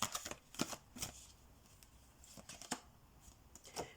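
Tarot cards handled and pulled from a deck, with soft quick shuffling flicks and papery snaps in short bursts, close and quiet, with no talking.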